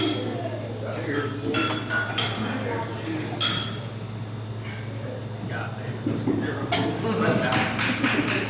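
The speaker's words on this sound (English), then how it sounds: "raise a glass with me and let's cheer to Chaz and Kenley" Glasses clink in a toast at a rehearsal dinner, several bright taps scattered through a crowded room while guests talk and chatter over them; a dog barks faintly in the mix.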